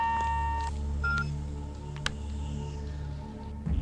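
Telephone tones play as a speakerphone is switched on in a hospital ward during an action film scene, a series of short electronic beeps and dial tones over a steady low hum, clear and close.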